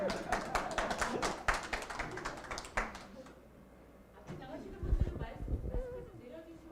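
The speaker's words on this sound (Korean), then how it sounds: "박수로 모시겠습니다" Applause from a lecture audience welcoming a rally host as he is called up, a dense patter of many hands for about three seconds, then fading into murmuring and low voices.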